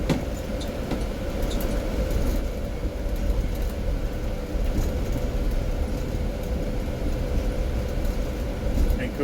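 A 2020 Blue Bird rear-motor electric school bus pulling away under light acceleration, heard from inside as a steady low rumble of road and body noise with a faint whine and an occasional rattle.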